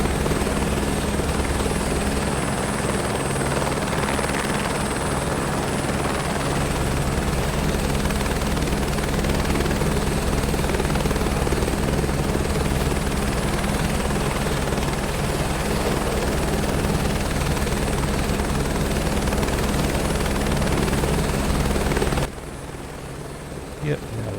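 A helicopter flies over the Everest base camp area in the video game Microsoft Flight Simulator 2024, a loud, steady rotor and turbine drone that runs unbroken for over twenty seconds before dropping slightly in level at the end.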